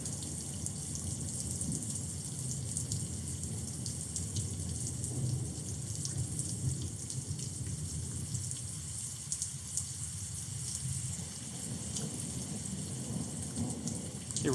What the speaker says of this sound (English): like having the sound of the rain in the background.